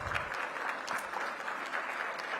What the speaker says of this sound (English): give Phil another round of applause